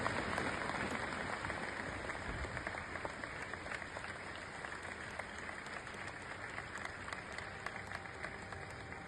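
Steady applause from a large audience at a religious gathering welcoming a Swaminarayan guru in Rajkot, dense continuous clapping throughout at an even level with no speech.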